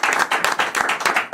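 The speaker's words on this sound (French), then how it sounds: "on peut l'applaudir" A talent show audience bursts into quick, lively clapping, a dense near burst of applause filling a short moment.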